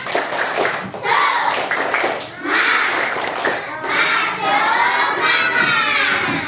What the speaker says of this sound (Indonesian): Nah, kita ice breaking dulu yuk. Tepuk semangat, tahu? Tepuk semangat.